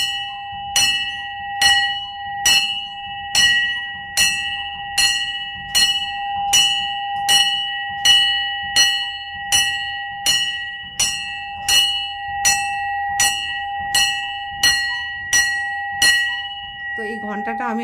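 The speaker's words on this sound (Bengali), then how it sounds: "তো এই ঘন্টাটা আমি আপনাদের সামনে বাজিয়ে এই কারণে শোনালাম" A hanging bell on a sling, rung for puja at a home shrine, strikes about sixteen times in steady even rhythm, each clang ringing bright and near before a brief sound at the end.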